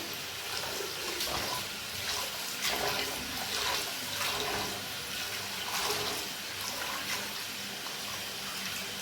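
Rice gets its final wash in water for chicken feet and white rice, a continuous soft splashing and swishing with running water, steady and close, with no talk over it.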